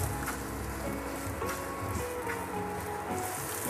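Minced garlic frying in a little oil in a pan, a steady soft crackling sizzle with faint popping, fairly quiet and continuous with no voices.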